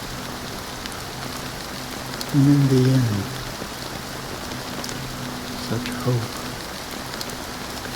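Steady rain falls across a scene in the video game Honkai Star Rail, a constant soft hiss of drops that continues under a brief spoken line.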